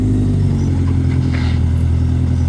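Lotus sports car with a faulty transmission that stops working properly once warm, heard as a loud, steady low engine drone with a faint higher whine rising briefly midway; no talking.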